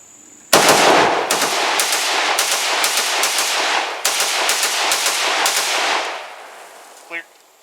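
Romanian 7.62x39 AK rifle fired in rapid semi-automatic strings, loud close reports in quick succession for several seconds, then a faint clink after the shots stop.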